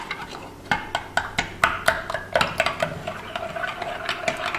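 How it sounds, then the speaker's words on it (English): Rum-soaked raisins and their rum stirred into a milk mixture for bread pudding, giving a steady run of clinks and scrapes of a utensil against a bowl, moderately close, with no talking. "and you want to mix that"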